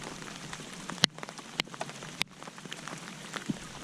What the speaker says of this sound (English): We're out here in the pouring rain, y'all.